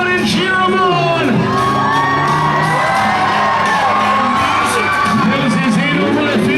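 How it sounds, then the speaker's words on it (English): A big crowd at a monster truck show in Stockton, California, cheers, whoops and yells continuously and loudly, children's shouts mixed in, a dense roar of voices without pause. "Let's get loud and cheer him on."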